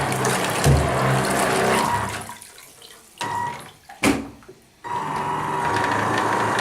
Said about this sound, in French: Il marche dans la baignoire, puisque je ne l'avais pas testé dedans.